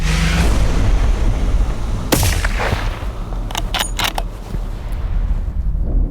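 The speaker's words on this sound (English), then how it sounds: "shot felt good" A hunting rifle fired at a big-game animal outdoors: one sharp loud report followed by a few quick clicks and rattles, over steady wind noise.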